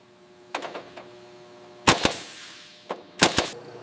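Pneumatic rivet gun replacing corroded rivets on a Sikorsky R-4 helicopter canopy frame, several short sharp bursts of rapid hammering taps separated by pauses, fairly close over a faint background hum.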